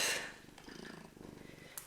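A domestic cat purrs close up, a soft rhythmic rumble pulsing steadily after a brief louder noise at the start, quiet and alone.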